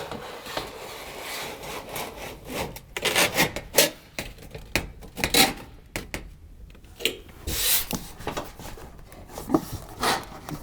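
A hand saw makes a long cut through plumbing sheeting, giving irregular rasping strokes in uneven bursts, close and moderately loud, with no voices.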